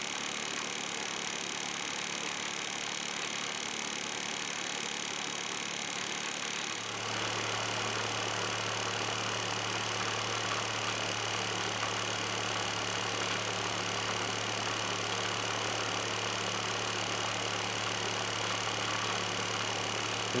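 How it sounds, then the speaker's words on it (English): A small Lynx Joule motor on new circuitry runs under load, giving a steady electrical hum and whine that shifts in tone about a third of the way in and then holds evenly, with no talking. "It's basically acting like a 12 watt motor under load."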